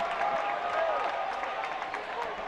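A basketball crowd at a college game between the De La Salle Green Archers and the Ateneo Blue Eagles applauds and cheers in a sustained roar, with a commentator talking over it.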